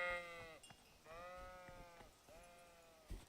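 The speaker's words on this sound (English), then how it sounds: "You sheep are really annoying." Sheep in a video game bleat three times in a row, wavering calls spaced about a second apart, fairly faint, with a soft thump at the end and no talking.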